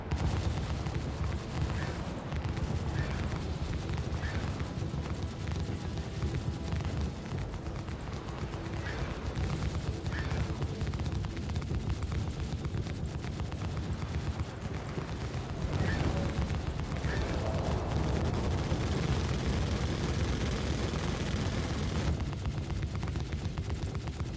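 Spaceship weapons firing during a large fleet battle in Star Citizen, a dense sustained low rumble of continuous rapid fire and booms that stays loud throughout with no clear voices.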